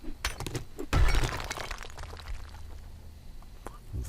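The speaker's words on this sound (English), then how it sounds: "The glass, of course, makes noise." Glass shatters in the survival video game 7 Days to Die, a sharp crash of breaking panes followed by tinkling debris and a fading rattle.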